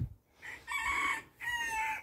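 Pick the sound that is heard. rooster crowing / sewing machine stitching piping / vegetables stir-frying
rooster crowing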